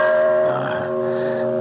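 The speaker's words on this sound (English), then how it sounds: "Just give the bell pull a good tug." Servant's call bell in a large house, sounded by a tug on a bell pull, ringing with a sustained, resonant tone that slowly fades.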